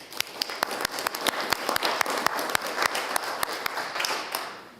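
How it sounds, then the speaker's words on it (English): Applause fills a state Senate chamber for the Salem High Blue Devils team, a brisk round of many hands clapping, fairly close and lively, tapering off at the end. "Please give them a round of applause."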